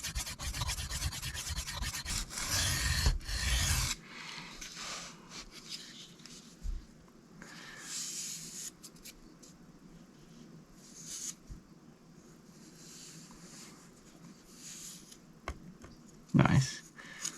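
Steel knife blade, a Cold Steel Mayhem, rasping across Sharpal 162N and Shapton Kuromaku whetstones, working toward the heel; a dense burst of strokes at first, then quieter intermittent rubbing with brief scrapes, close and fairly faint.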